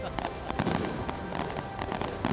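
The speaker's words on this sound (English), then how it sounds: "those are championship fireworks" Fireworks go off over a football stadium in a championship celebration at a women's ASEAN tournament, a dense, continuous barrage of crackles and booms heard from a distance without talk.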